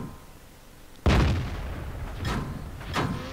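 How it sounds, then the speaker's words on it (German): A sharp, loud burst of video game gunfire hits suddenly, the shots bouncing off the target, followed by two more booming shots spaced about a second apart over a rumbling background. "Und da prallen die Schüsse einfach ab."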